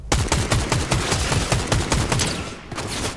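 Rapid sniper rifle fire in Fortnite, a quick string of sharp loud cracks close together, nearly continuous for about two and a half seconds before a brief pause and a few more shots.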